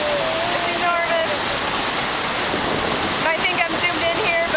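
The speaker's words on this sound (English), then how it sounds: "We're just absurdly close to a very large waterfall." Iguazu Falls in Argentina, a very large waterfall seen from close range, makes a loud, continuous roar of crashing water with wind gusts, and voices talk over it.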